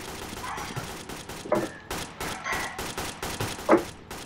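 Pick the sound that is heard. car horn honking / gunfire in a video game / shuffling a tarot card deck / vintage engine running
gunfire in a video game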